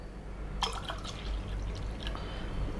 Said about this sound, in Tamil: இப்போது நம்ம தண்ணி ஊற்றிக்கலாம்.